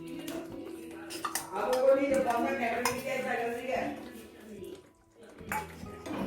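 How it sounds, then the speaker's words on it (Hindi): Paneer stirred into gravy in a pan for palak paneer, with a spoon clinking and scraping against the metal in irregular bursts under a voice. "पनीर को अच्छी तरह से इसमें मिक्स करेंगे"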